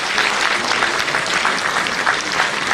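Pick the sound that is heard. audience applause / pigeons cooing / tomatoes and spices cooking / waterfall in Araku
audience applause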